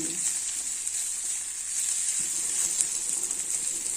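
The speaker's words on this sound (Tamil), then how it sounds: "இந்த மாதிரி கனமான இரும்பு சட்டி இந்த மாதிரி இதை போட்டுக்கிட்டிங்கன்னா டக்குன்னு உருளைக்கிழங்கு வந்து ஃப்ரை ஆகிடும்." Potatoes fry in a heavy iron pan with a steady, close sizzle that holds throughout, plus a few faint scrapes of stirring and no talking.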